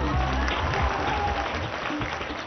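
Applause from an audience at a political rally for the Bharatiya Janata Party in Bihar, a dense, steady wash of clapping filling the whole stretch at moderate loudness.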